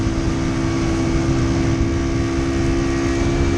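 The small engine of a 2018 Amstar Nostalgia 49cc cafe racer, fitted with a new air filter, runs close by in a loud, steady, buzzing idle drone with a constant pitch.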